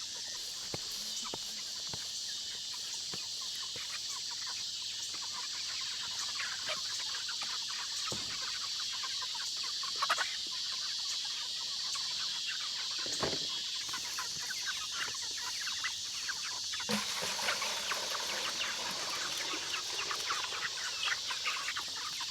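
Meat chickens, about five weeks old, cluck and murmur on and off against a steady hiss of outdoor background noise, with occasional louder calls and no talking.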